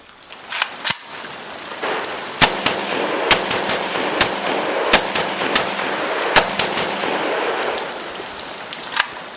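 A Vepr FM AK-47 rifle with a folding stock and TDI billet aluminum handguard fires a string of single sharp shots at irregular intervals outdoors, loud and cracking over a steady background hiss.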